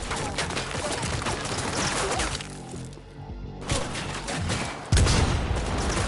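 Dense, loud shooting in the game Cyberpunk 2077 aimed at a container, sustained gunfire with a brief lull midway and then a heavy impact as firing resumes.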